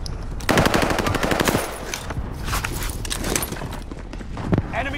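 Machine gun fire in the video game Call of Duty: Modern Warfare, heard as fast rattling bursts at close range mixed with other gunfire and in-game clatter, with players talking over it.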